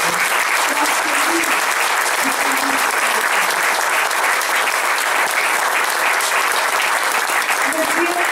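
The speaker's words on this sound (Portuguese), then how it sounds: "Uma grande salva de palmas também para o professor Amilcar" Steady, loud applause from a large crowd at a book launch fills the whole stretch, dense clapping without pause, with faint voices mixed underneath.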